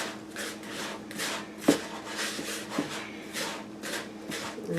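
Cinnamon graham cracker crumbs are worked together by hand in a bowl, a soft rhythmic rubbing and gritty rustle, close and moderate in level, with no talk.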